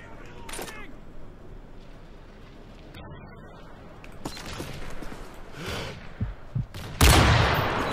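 Barrett sniper rifle gunfire in the video game Modern Warfare 3, with sharp isolated shots mixed with game effects under speech and a loud blast near the end.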